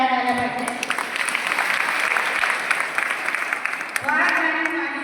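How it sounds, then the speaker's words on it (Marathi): Audience applause at a Marathi public event, a steady broadband clapping wash across the whole stretch, swelling again near the end, with some voices mixed in. "त्यांच्यासाठी खरंच एकदा टाळ्या झाल्या पाहिजे"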